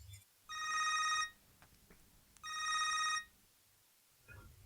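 Telephone ringing indoors in two distinct electronic trilling bursts, each about a second long with a short pause between, clear and moderately loud in a quiet room.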